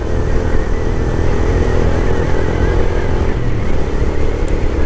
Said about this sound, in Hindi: and this is a great bike ride